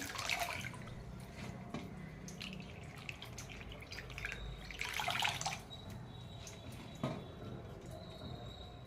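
Picked leaves being washed by hand in water, soft intermittent splashing and dripping with a few brief louder sloshes, close and faint.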